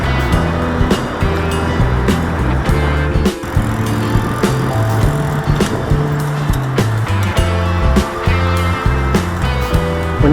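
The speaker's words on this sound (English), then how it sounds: "When you hear that whining noise, that's the engine doing it." An e-bike motor whines while riding along a trail, a steady electric hum beneath road noise and rattles that shifts in pitch as the bike moves.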